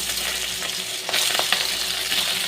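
Boal fish frying in hot oil in a kadai, a continuous close sizzle that grows louder and brighter midway as the pieces are turned, with faint stirring clicks and no talk.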